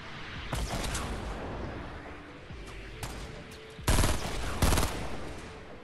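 Gunfire in Fortnite: scattered shots over background noise, then two loud close bursts near the end.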